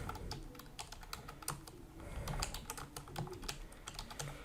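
Rapid clicking of keys on a computer keyboard as a post title is typed into a WordPress site, a steady close-up patter of taps with no voices.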